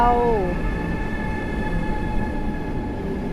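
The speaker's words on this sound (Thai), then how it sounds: "รถไฟของเรา" A double-decker train rolls in at a station in Finland with a steady low rumble and a brief high brake squeal at the start, continuing as a constant mechanical hum.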